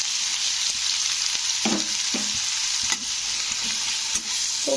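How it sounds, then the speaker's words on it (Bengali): Two medium onions sizzle in hot oil in a pan with already-fried cardamom and cumin, a steady close frying hiss broken by several scraping stirs of a spatula, with no voices. "তো পেঁয়াজটা এবারে লাল করে একটু ভেজে নিতে হবে।"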